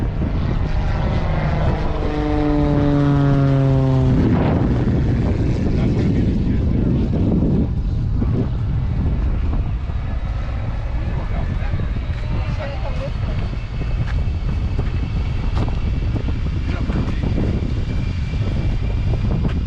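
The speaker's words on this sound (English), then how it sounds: "Here comes the plane around." A stunt plane's propeller engine roars past loudly at the Stuart Airshow, its pitch dropping sharply as it passes, then a sustained engine rumble continues amid crowd noise, with someone talking over it.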